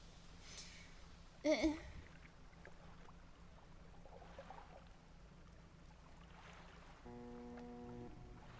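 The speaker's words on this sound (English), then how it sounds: "Why is there a ship noise?" A ship in the fishing game Dredge gives a low, steady rumbling drone, and a louder tonal ship sound joins near the end; no one talks.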